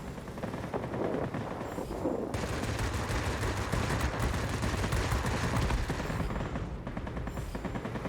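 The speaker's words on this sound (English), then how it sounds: "Guns, guns, guns." A Beaufighter heavy fighter in World of Warplanes fires its guns in a long, continuous rattling burst, loud and dense over a steady engine roar, with a brief gap before the firing resumes.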